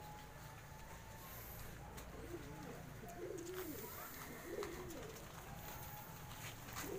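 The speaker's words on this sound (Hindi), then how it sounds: "निकाल भाई परिंदों को बाहर निकाल।" Fancy pigeons coo softly in a loft, with several low, rolling coos rising and falling over faint background noise and brief voices.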